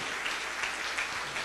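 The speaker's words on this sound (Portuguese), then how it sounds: "Você pode aplaudir ao Senhor?" A church congregation claps together in a dense, steady wash of applause that sounds somewhat distant and fills the whole brief moment.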